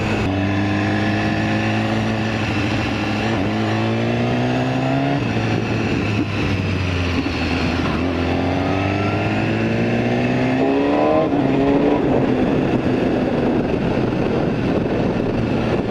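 A 2015 BMW S1000RR sport motorcycle rides along at road speed, its engine droning steadily and rising in pitch through several gear shifts under constant wind rush, close and loud.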